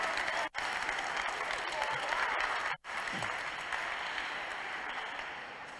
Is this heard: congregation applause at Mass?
yes